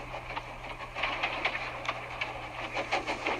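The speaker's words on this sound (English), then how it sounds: "Instead of nice shining coaches, he was pulling a dirty freight train." A freight train rolls along the rails, a steady rumbling clatter with a low mechanical hum and light rhythmic clicks at moderate distance.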